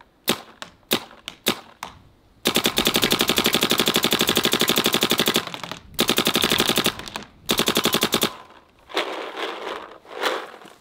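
A Twister Geo 4 gel blaster fires a few single shots, then loud, rapid full-auto bursts of sharp cracks up close, separated by short pauses.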